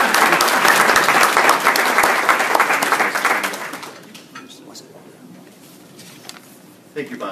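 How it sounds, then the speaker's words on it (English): Dense applause from a morning conference audience at a session on the opioid crisis, loud and sustained for about four seconds, then fading to quiet room noise with a brief bump near the end. "can clap for him."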